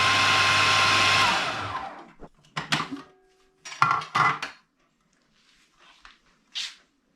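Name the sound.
blender blending butternut squash hummus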